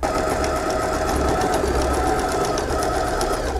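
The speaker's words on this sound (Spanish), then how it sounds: "vamos a hacerle una costura bien al borde con la puntada recta de la máquina" Sewing machine running steadily on a straight stitch along the edge of a double patch pocket, a continuous close, loud mechanical whir with a rapid needle rhythm and no pauses.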